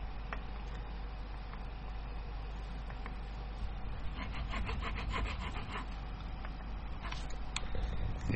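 A hand file cuts a string slot in an oiled bone nut on a Fender Jaguar guitar, a close, steady rasping scrape with a quick series of short back-and-forth strokes in the middle.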